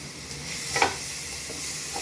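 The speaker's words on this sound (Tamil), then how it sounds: "இதையும் ஒரு 2 மினிட்ஸ் நல்லா வதக்கிக்கோங்க." Ginger, garlic and turmeric sautéing in a pan for a restaurant-style fish curry, a steady soft sizzle with a brief stirring scrape near the middle and faint clinks, close and alone.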